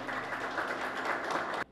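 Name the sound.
applause for the cabinet and commissioner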